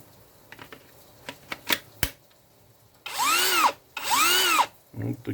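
An Einhell Impaxxo 18/230 cordless impact wrench gives two loud close whirring bursts of about half a second each after a series of handling clicks and knocks, then a short third spin at the end.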